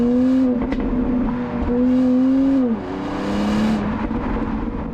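A 2025 BMW X3 M50 SUV engine accelerating, a loud steady drone whose pitch climbs, dips and climbs again through gear changes, continuous and close with no talking over it.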